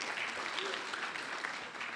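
A conference audience at RubyConf AU 2023 claps for the speaker in a brief, moderate burst, with a voice faintly audible over it.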